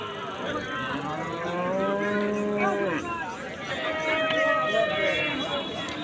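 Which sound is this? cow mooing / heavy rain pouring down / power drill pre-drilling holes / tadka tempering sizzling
cow mooing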